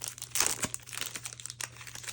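Shrink wrap crinkles and tears off a pack of province cards from the Roma Victrix board game, a close, quiet burst of crackling plastic lasting a couple of seconds with no talk.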